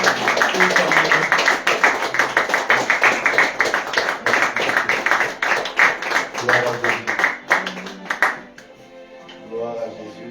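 A church congregation claps rapidly and steadily in praise of Jesus, dense rhythmic hand claps with voices shouting and acclaiming over them, fading toward the end as a few voices linger.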